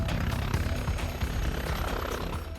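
An air ambulance helicopter throbs loudly and close, its rotor chop a steady pulsing roar throughout, with no talk.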